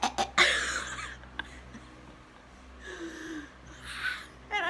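A person imitates choking on a cough drop: a few sharp, close coughs and snorts at the start, then a faint pause and more breathy hacking sounds toward the end, with no speech.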